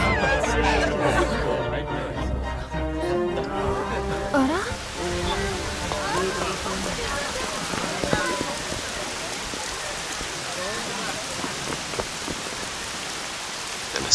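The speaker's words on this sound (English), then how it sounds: "And a sudden rainstorm" A sudden rainstorm in the video game Dragon Quest XI S, a dense steady hiss of rain building up under game music and a voice talking over it.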